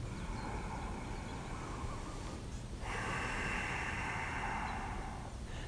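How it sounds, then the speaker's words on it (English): Ujjayi breathing through a slightly constricted throat during a yoga flow, a soft, steady oceanic hiss of breath that swells louder on a drawn-out inhale midway, heard alone without talk. "Engaging your Ujjayi breath if you do have it"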